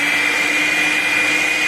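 An electric mixer beats eggs with oil for a chocolate cake, giving a loud, steady motor whine with a constant high hum and no pauses.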